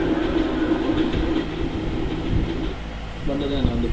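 A train rumbles and clatters past behind someone travelling from Coimbatore toward Pollachi: a loud, steady roar that fills the whole stretch, with a voice talking over it.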